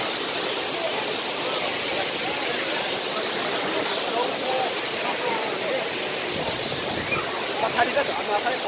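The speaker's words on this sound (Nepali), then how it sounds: "पछाडि त झर्ना छ" Bungdol waterfall near Hetauda, with a stream below it, gives a steady, broad rushing roar that fills the whole clip at an even level. Faint sounds of people are mixed in near the end.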